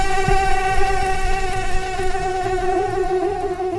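A steady, close mosquito-like whine drones on without a break, holding a tonal buzz with layered overtones and no talking.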